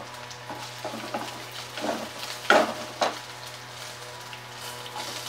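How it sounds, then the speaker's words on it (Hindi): Onion, ginger and garlic frying in a pan for sambar, a soft steady sizzle with a few stirring scrapes and clinks of the utensil against the pan, close and without talk. "अब मैं इसमें ऐड करूंगी प्याज, और साथ ही अदरक लहसुन मैं ऐड कर दूंगी।"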